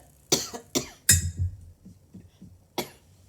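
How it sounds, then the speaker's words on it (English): Several sharp, close coughs in a quick cluster, followed by a pause and one more cough, with faint throaty sounds between them, from chewing peanuts. "I'm coughing, but I promise it's not COVID."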